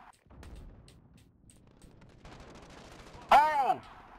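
Gunfire crackles in Modern Warfare 2019, with scattered sharp distant shots and a burst of rapid fire building up, then a loud ringing hit sound near the end.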